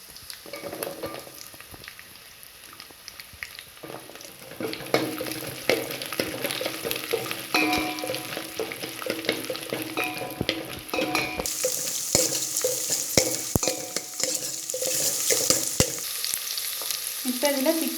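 Garlic and onion fry in oil in a pan for a hotel-style sundakkai vathal kuzhambu, a steady close sizzle broken by repeated scraping stirs of a spoon against the metal.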